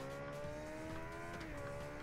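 A motorcycle races in the video game Ride 2, its engine holding a steady droning whine at high revs with a slight pitch drop near the end, continuous and close.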